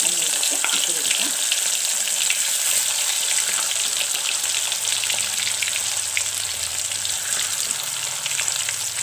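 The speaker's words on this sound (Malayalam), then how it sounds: "നമുക്ക് ഒരു കാട കൂടെ എണ്ണയിലേക്ക് ഇട്ട് കൊടുക്കാം." Quail dropped into hot oil for a crispy kaadai fry, sizzling loudly and steadily throughout at close range with a dense, even crackle and no talking.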